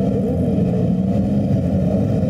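A Kawasaki H2R motorcycle engine runs loud and steady at close range among a large group ride at Sepang, a dense low rumble holding without clear rises or breaks.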